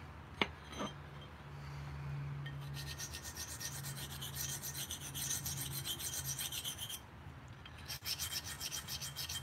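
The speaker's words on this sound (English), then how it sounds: "I do have a lot of sharpening to do today" A knife blade sharpened in long, repeated rasping strokes against a stone, an even back-and-forth rhythm at moderate volume after a couple of sharp clicks, with no voices.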